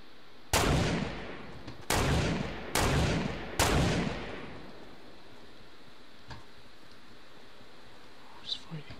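Four loud, sharp gunshots from a Fortnite Battle Royale sniper shootout crack out about a second apart, each trailing off with a long echoing tail, followed by near quiet with a few faint distant sounds.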